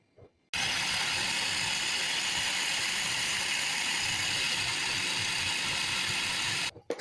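A blender whirs steadily through a cup of powdered milk for homemade condensed milk, a loud continuous grinding roar that starts abruptly and runs about six seconds before cutting off.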